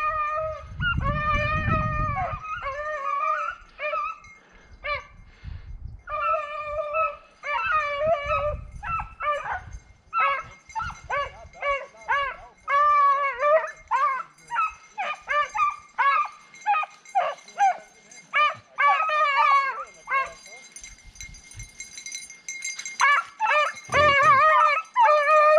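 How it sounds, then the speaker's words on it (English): A pack of hunting dogs bays and howls while chasing a rabbit through the brush, long overlapping cries and yips repeating in rapid bursts, fairly close and loud, with brief low rustling or wind noise. "That rabbit just came right out here across the run. The dogs will be right on him."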